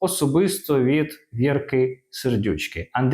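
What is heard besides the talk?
No distinct noise like a dog, phone or traffic.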